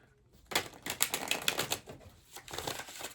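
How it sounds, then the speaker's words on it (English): A tarot deck gets a quick shuffle close by, with riffling, clicking card flutters in short bursts and a brief pause before a final flurry. "I'll just give it one more shuffle."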